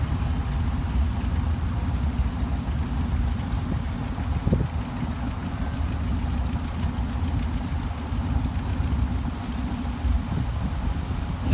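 A 1985 Bombardier Iltis military vehicle, built under Volkswagen licence and formerly in Canadian Armed Forces service, drives in an army vehicle parade at a steam show, its engine a steady low rumble close by throughout.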